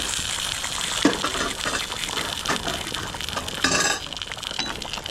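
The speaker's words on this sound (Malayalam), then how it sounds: "ഇതൊന്ന് താളിച്ച് നമ്മുടെ കറിയിലേക്ക് ചേർക്കാം" A tempering of mustard seeds, fenugreek, dried chillies and curry leaves hisses into a prawn and jackfruit seed curry with a steady, loud sizzle and bubbling, plus a brief louder gush and light utensil clinks, heard close with no talking.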